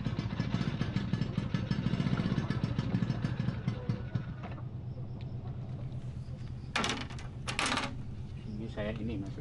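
A motorcycle engine runs close by with a steady throbbing rumble through the first half, then fades under clattering and mechanical knocks while people talk nearby.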